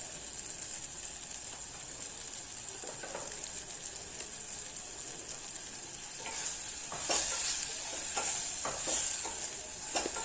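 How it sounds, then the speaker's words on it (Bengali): Mixed vegetables crackle and hiss in a pan while a spatula scrapes and clatters through them, the stirring growing busier and louder toward the end. "সবজিগুলো ভালোভাবে কষিয়ে নেওয়ার পর"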